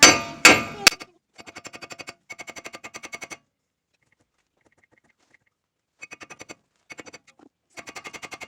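Bursts of rapid metallic tapping from a hammer on a Chevy Tahoe differential carrier bearing part, each a quick run of evenly spaced hits, separated by pauses, after a few louder clanks at the start.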